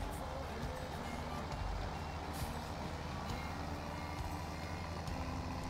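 Truck in Farming Simulator 17 pulling away, a continuous diesel rumble with reversing beeps and an air-brake hiss near the start, steady and moderately loud without talk.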